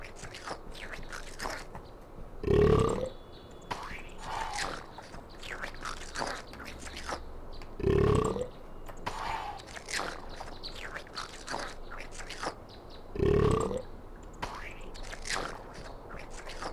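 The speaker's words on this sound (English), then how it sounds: "watch this weird little vegetable boy eat bushes and burp out beans" Small creature in the PS1 Harry Potter video game munching on bushes and burping, heard as repeated crunchy chewing bites at regular intervals with softer scraping game sounds between them, no talk.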